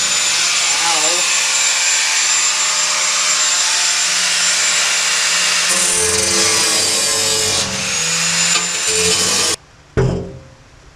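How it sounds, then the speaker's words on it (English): Power tool cutting slots into a new steel trunk floor pan on a 1969 Plymouth Valiant, a loud continuous whining grind lasting most of the clip, changing pitch as it bites, then stopping abruptly before a brief final burst. "cut a couple of slots in, that way it'll drop through and we can weld it in."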